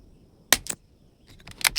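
Several sharp .22 LR rifle shots ring out, two close together and then a quicker cluster of three or four, each a brief crisp crack fired at the same target with quiet between them.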